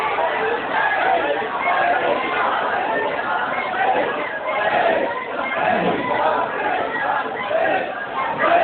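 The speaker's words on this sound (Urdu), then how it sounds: "ایس واسطے لبیک کے نعرے لا دے" A crowd at a religious gathering chants Labbaik slogans together, a dense mass of voices rising and falling in waves, loud and muffled with a dull, band-limited tone.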